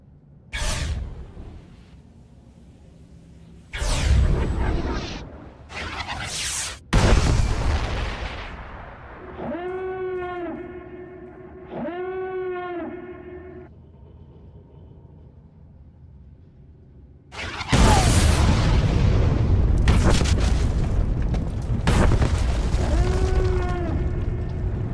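Satellite strike explosions in Star Wars: The Old Republic, a series of loud booming blasts and rumbling impacts, with a couple of rising tonal whines between them, ending in a sustained heavy roar.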